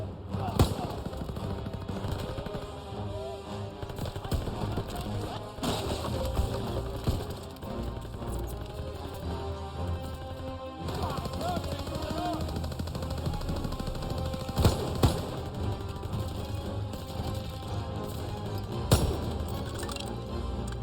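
SVT-40 rifle fire, 7.62x54R, in the World War II shooter Call of Duty WW2: a dense stretch of battle gunfire with repeated sharp cracks and clinks over a busy rumbling mix, with a voice talking now and then.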